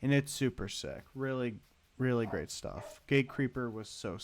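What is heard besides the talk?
No distinct noise like a dog, phone or traffic.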